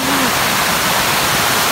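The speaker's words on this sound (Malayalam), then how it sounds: "ഇതാണ് ഞാൻ പറഞ്ഞ വെള്ളച്ചാട്ടം" A forest waterfall roars steadily and loudly up close, a dense continuous rush of falling water with no break.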